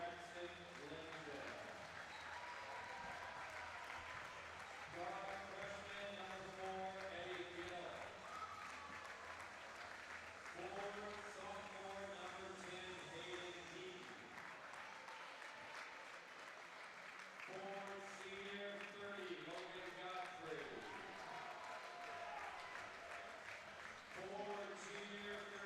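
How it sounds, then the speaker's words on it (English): Crowd at a Grace College basketball game applauds as the starting lineups are introduced, steady clapping and cheering beneath a public-address announcer's voice and pulsing arena music. "Jim Kessler getting a big ovation"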